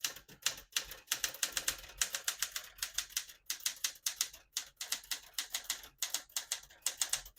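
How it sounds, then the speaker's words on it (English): A 1975 Smith-Corona Galaxie 12 portable typewriter clacks loud and close in steady bursts of keystrokes, each strike crisp and sharp, with short pauses between words and no voices. "I'll type a sentence in red on the next line and switch from black to red."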